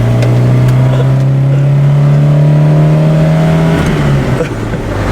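A 1967 Ford Cortina GT engine revs hard and steady while the car is driven, a loud sustained drone that climbs slightly in pitch before easing off near the end, heard close up with no talk.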